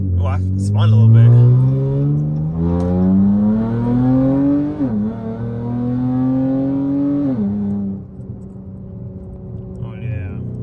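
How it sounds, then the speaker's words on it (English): V6 Dodge Charger revving up and dropping pitch as it downshifts, engine tone climbing in two long pulls with talking and shouts over it, loud and close. "I love how them downshift sound"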